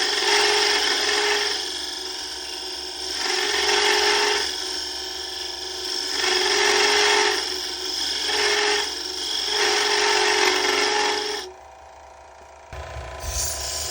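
A power tool grinds and cuts a walnut wood beer opener in repeated loud, rasping passes of a few seconds each, close up, ending with a short pause and a clunk.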